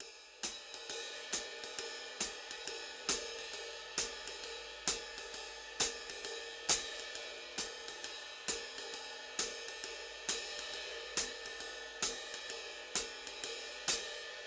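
A finger-drummed jazz swing beat plays ride cymbal and closed hi-hat hits in a steady, evenly spaced pattern with lighter swung notes between the main strokes, clear and close, with no talk.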